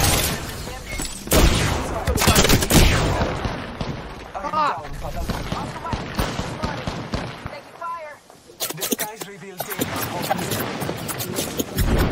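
Apex Legends gunfight with bursts of gunshots and blasts through the first few seconds, then scattered shots, all tangled with excited players talking over the action.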